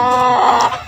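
Chickens near their coop give a loud, close clucking and crowing call lasting under a second, with no talk.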